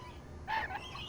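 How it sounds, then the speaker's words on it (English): A parrot gives a single short squawk, a bright harsh call of about a quarter second that rises out of a faint, quiet background, fairly close and alone. "Do I hear parrots?"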